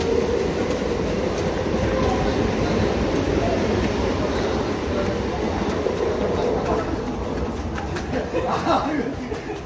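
A train heading toward Madhpur station rumbles steadily along the rails with a continuous low roar and faint rattling, while voices speak over the noise.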